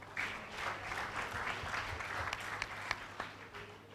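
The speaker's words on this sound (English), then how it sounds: "Can you clap for UI?" Clapping from the audience at a nursing induction ceremony in Nigeria, a moderate, fairly distant wash with a few sharper individual claps standing out near the end.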